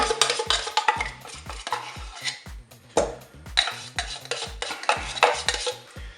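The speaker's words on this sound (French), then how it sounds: "Je vais mettre une cuillère pour prendre ce qu'il y a au fond." A spoon stirs and scrapes condensed milk around the bottom of a bowl, giving repeated clinking, scraping strokes in an uneven rhythm, close and fairly loud, with no talking.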